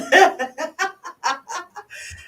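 A rapid series of loud clucks and squawks from a nearby rooster, in uneven bursts, ending with a drawn-out cackle.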